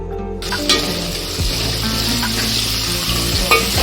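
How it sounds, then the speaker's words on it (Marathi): Garlic and asafoetida fry in hot oil, giving a loud, continuous sizzle with no talking over it, and a few sharper crackles pop out now and then. "लसूण चांगला तळून घ्यायचं एकदम क्रिस्पी झाला पाहिजे."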